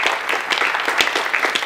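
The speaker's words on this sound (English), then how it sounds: "and I really like a great round of applause for Craig Cook for all he did." An audience at a discussion event on opioid addiction and recovery applauding steadily, dense continuous clapping at a lively level, with no speech over it.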